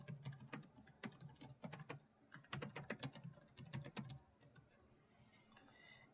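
Quick bursts of computer-keyboard typing as a connection request policy name is entered, close and crisp clicks in uneven clusters with short pauses, then fading to a quiet tail.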